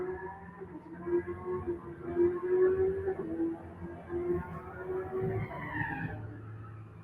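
Chevy Camaro drag racing against another car at Gainesville Raceway, steady engine roar from mid distance with a tire-squeal sweep near the end.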